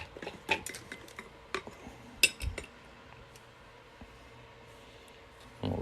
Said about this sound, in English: We will use copper tongs to get it out.